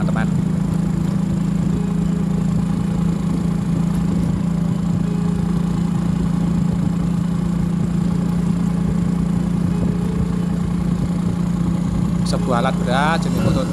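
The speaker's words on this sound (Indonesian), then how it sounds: "Sebuah alat berat jenis motor grader" Heavy diesel engine of a motor grader running steadily on an expressway construction site, a constant low drone throughout with speech over it and a brief clatter near the end.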